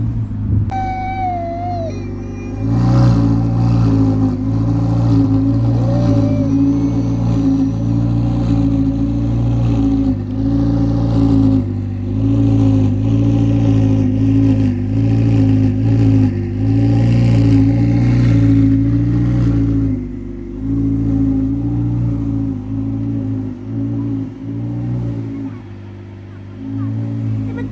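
A Ferrari and other racing cars drive past with loud engines, a sustained, throbbing roar that rises and falls as they rev, continuous and close throughout.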